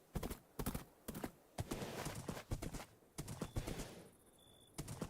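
Hooves clop in quick, regular beats as a horse is ridden in a Minecraft-style video game, crisp, sharp footfalls close by, with a brief high electronic tone near the end.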